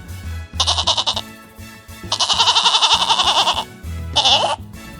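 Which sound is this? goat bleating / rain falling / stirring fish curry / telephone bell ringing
goat bleating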